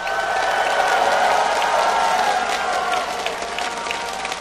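A large arena crowd at LA Live applauds and cheers for TSM at a League of Legends Season 2 quarterfinal, a dense, steady roar of clapping and voices that eases slightly toward the end.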